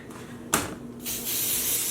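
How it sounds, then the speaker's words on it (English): A color mist spray bottle spritzes dye onto knitted sock blanks in a short hissing puff, followed by a longer, steadier spray a moment later, close and fairly quiet. "one of the reasons why I really love the color mist spray is that it gives us this really shallow application of color"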